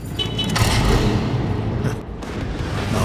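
Tommy gun firing in the video game Warframe 1999, a dense sustained burst of rapid booming automatic shots, loud and close, running continuously for the whole stretch with a brief dip midway.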